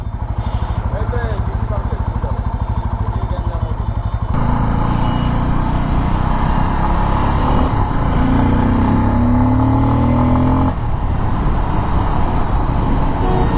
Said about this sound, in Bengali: প্রথমবারের মতো আমি বাইকটি স্টার্ট করলাম আলহামদুলিল্লাহ এক সেলফ স্টার্ট নিছে বাইকটা